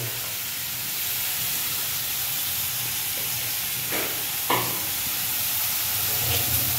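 Finely chopped onion fries in a pan with mustard seeds for dal palak, giving a steady close sizzle with a few brief scraping stirs partway through.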